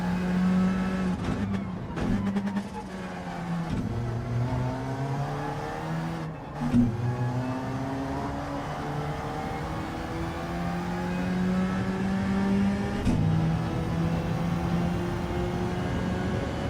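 Race car engine in a racing video game time trial, steadily droning and revving with harmonic whine that climbs and drops through gear changes, brief lifts and bursts, loud and continuous with no talk.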